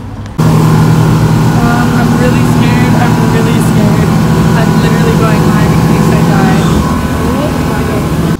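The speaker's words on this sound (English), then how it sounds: "We're about to take a boat at 2 a.m." A steady, droning motorboat engine runs throughout at constant loudness on a 2 a.m. boat ride in Dubai, with faint voices talking over the low hum.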